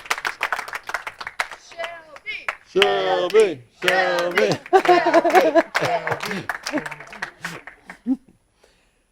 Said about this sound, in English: Applause all around.